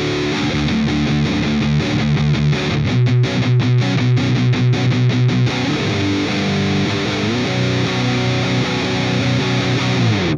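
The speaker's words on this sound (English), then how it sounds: "so now we've gone for a mid-scoop sound on a triple rack style amp" Heavily distorted electric guitar through a mid-scooped triple rack style amp model on a Digitech iPB-10 pedal board, high-gain tone, a thick wall of chugging and sustained chords, loud and continuous.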